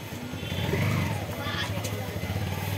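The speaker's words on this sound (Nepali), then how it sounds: "अभिरले बाइक निकाल्दैछ।" A motorcycle engine runs softly in the background, a low steady drone partly masked by people talking nearby as the bike is brought out.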